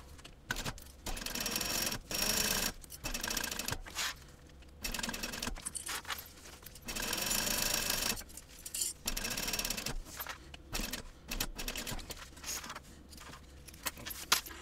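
Domestic sewing machine stitching slowly through thick layers of fabric: short, quiet bursts of mechanical whirring and clatter, repeated with brief pauses between them.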